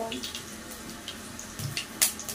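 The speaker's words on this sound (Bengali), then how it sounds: "শুকনো লঙ্কা আর 5 ফোড়নটা তেলের মধ্যে দিয়ে দিয়েছি।" Dry red chillies and five-spice seeds sizzle in hot oil in a home kitchen, a quiet, steady hiss with small crackles and faint stirring noises.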